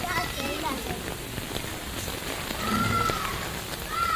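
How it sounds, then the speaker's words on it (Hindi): Rain falls on a rainy day in Sindh, a steady soft hiss of drops spreading under nearby voices, including what sound like children. "पर हिते बारिश जो मज़ो वठूं पहिरें।"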